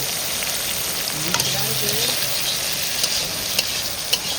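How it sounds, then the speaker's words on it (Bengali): Cashews and raisins frying in a pan in an outdoor shelter during rain, a steady soft sizzle with a few light clinks of stirring, close and unbroken throughout. "বন্ধুরা কাজু আর কিশমিশ ভাজা হয়ে গেছে"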